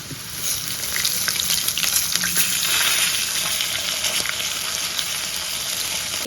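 Fresh curry leaves fry in hot oil in a pan, giving a steady, close sizzle and crackle that holds throughout with light scattered pops.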